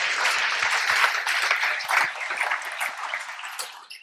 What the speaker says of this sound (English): let's give a big round of applause for all